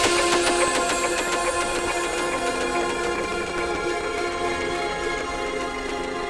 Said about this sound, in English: And that is this crash reverse.